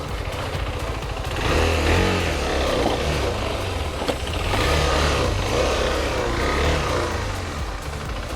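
A KTM 390 ADV motorcycle engine runs after a stall on a trail, a steady close rumble that swells with mild revving and drops back, continuous throughout.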